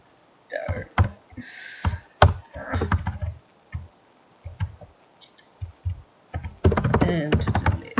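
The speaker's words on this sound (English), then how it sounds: "I'm not typing very well at all today" Irregular bursts of clicky keyboard typing, close up, with pauses between flurries and a dense run of keystrokes near the end.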